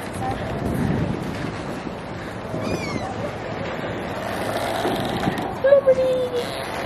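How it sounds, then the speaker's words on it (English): Steady engine rumble and wind buffeting aboard a Statue of Liberty ferry on open water in New York, with a few faint distant voices and a brief sharp sound near the end. "We're on the ferry."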